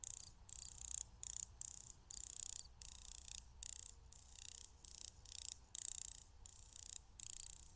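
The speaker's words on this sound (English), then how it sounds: "when in flight, many grasshoppers, especially the larger ones, make a clicking noise." Rapid, rhythmic clicking from a grasshopper in flight, in short bursts separated by brief pauses, high-pitched and fairly quiet against a soft outdoor background.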